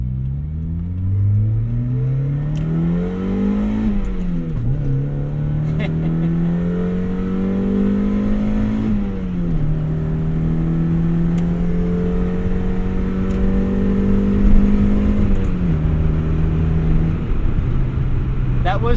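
A 1991 Mazda Miata engine revving hard as the car accelerates to about 70 mph, the pitch climbing through each gear and dropping at three distinct upshifts, loud and close throughout.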